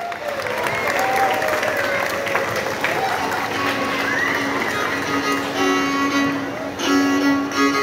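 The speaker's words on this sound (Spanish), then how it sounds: "Recibámoslos con un fuerte aplauso." An outdoor crowd at a town fair's dance gathering in Olintla applauds the huehues dancers, a loud, continuous spread of clapping mixed with crowd noise and music, with voices over it.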